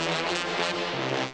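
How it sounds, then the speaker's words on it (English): A sampled brass section plays low-octave MIDI notes in Ableton, producing a brief, sustained, harmonically rich chord swell that fades at the end. "So just using some lower octave MIDI notes, I added the brass section, which sounds like this."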